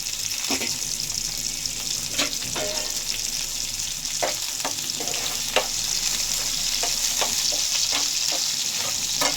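Cumin, mustard seeds, garlic and dried chillies fry in hot oil as a tempering for ulavapindi sambar rice, giving a steady close sizzle broken by sharp clicks and scrapes of stirring, with no talk.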